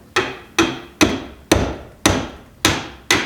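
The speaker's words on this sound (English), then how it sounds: "Grab my hammer" A hammer strikes a house wall seven times in a steady rhythm while punching a drain hole for a mini-split air conditioner, each blow sharp and loud with a short ringing decay, close by.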